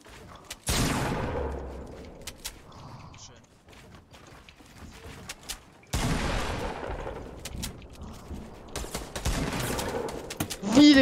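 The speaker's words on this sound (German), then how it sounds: "Digga, wie hat der Schuss nicht drauf?" A video game gunshot cracks out loudly, followed by a decaying burst of gunfire and a second sharp volley later, with talk and game sounds in between.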